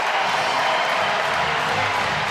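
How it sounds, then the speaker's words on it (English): Arena crowd at a Michigan basketball game against Wisconsin roars and applauds a player's career milestone, a dense, steady wall of cheering and clapping with no break. "Now the crowd's on their feet for Derek Walton Jr."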